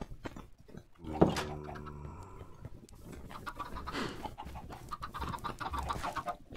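A Minecraft chicken clucks once, then a busy mix of game clucking from many chickens, rustling and movement sounds continues at moderate level.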